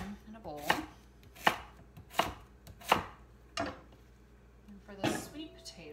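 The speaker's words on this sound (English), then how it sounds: "So I just chunk them and stick them in a bowl." Sweet potatoes chopped into chunks with a knife on a board, about seven sharp, separate thuds at an uneven pace, close and clear, with low background noise.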